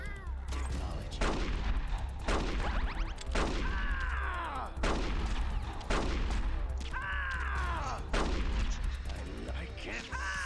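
Gunfire in the video game Metal Gear Solid: The Twin Snakes comes as repeated loud, sharp shots at roughly even intervals over a low rumbling background, each followed by ringing and whistling effects.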